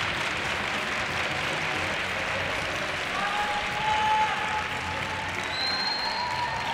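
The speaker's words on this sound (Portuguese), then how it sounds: "Ao som das palmas, o público também espera." A large arena crowd at a European aerobic step championship claps steadily and continuously while awaiting the Russian team's score, a dense, unbroken wash of applause with a faint tone sounding partway through.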